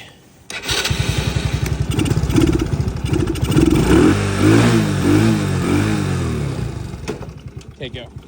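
Four-wheeler engine running and revving as throttle is applied, a loud steady motor drone with pulsing rises through most of the stretch, while people talk over it nearby.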